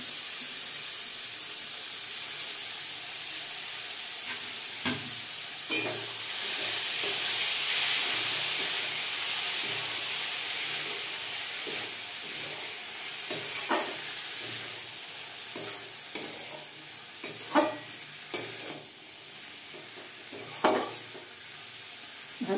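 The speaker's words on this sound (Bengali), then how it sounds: "ভালো করে কষিয়ে কষিয়ে আমি এই মোচাটাকে নরম করে নেব" Raw chopped banana flower sautés in a pan with a steady hissing sizzle that swells for a while, broken by scattered scraping clacks of stirring. The sound is close, with no talking.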